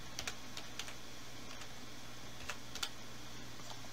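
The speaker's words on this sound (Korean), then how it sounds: "제슨으로 다시 한번 제슨이라고 입력해 줄게요" Quiet, scattered keystrokes on a computer keyboard as a password is typed during Jetson Nano setup, light clicks coming in small irregular bursts over a steady low hum.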